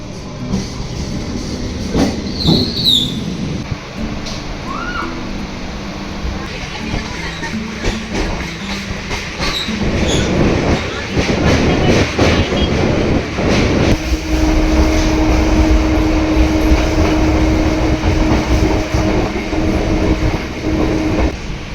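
A suburban train runs toward Lake Gardens station in Kolkata, its steady rumble and rail noise building loud and close, with a sustained wheel squeal in the later half.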